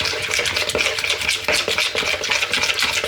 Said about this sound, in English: And then just give it a good mix.